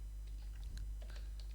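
Rapid, light keystrokes on a computer keyboard as Python code is typed, a close, steady patter of clicks over a low background hum, with no speech.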